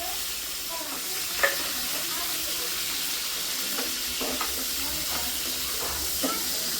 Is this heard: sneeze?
no